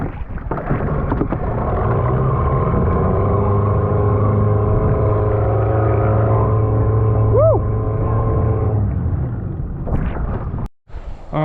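A boat engine drones steadily on an estuary, a loud, continuous low hum that fills the whole stretch before cutting out briefly near the end, with no voices over it.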